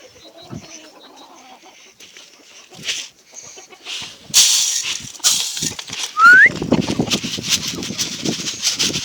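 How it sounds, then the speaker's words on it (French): Faverolles chickens clucking on a small home farm in the morning at feeding time, with close, overlapping clucks and short calls over farmyard noise. "là c'est mon petit élevage de Favrol"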